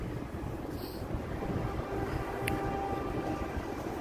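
A Chicago Red Line subway train rumbles below the street near Monroe, a steady low rolling roar heard from a distance with a brief high squeal partway through, and no talk.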